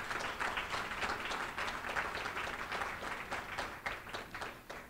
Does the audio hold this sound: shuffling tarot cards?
no